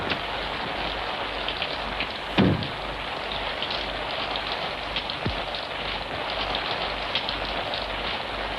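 Heavy rain falls steadily in a film scene, a dense even hiss of drops close by. One brief thud breaks it partway through, and no one speaks.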